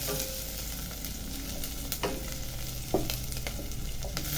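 Chicken being mixed in a cooking pot for a vegetable chicken soup, a steady faint sizzle with occasional soft scrapes and taps of a utensil, no voices.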